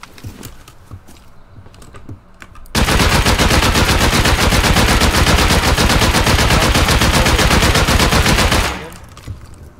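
Sustained automatic gunfire in a shooter video game erupts after a few quiet seconds of soft clicks and rattles, then rips on as a dense, loud, rapid burst for about six seconds before stopping abruptly.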